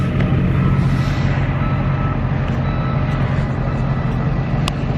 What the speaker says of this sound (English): I hear the gravel truck coming